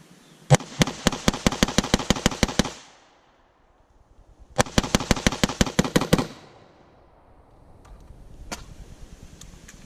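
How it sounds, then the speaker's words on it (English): Two rapid strings of rifle shots fired downrange at a shooting range, each burst a dozen or more sharp evenly spaced cracks, loud and close, separated by a short pause, with a few faint clicks afterward. "Let's go ahead and throw some rounds down range."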